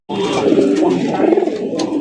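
Several pigeons coo steadily and close by, their soft throaty calls overlapping in a continuous murmur at a pigeon seller's collection, with no talk.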